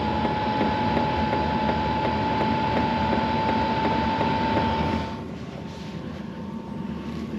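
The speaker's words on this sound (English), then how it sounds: "Give a listen to the pump now." A BougeRV diesel heater fitted in a Chevy van runs with a steady whirring hum and a faint regular ticking from its fuel pump; partway through, the sound drops noticeably quieter.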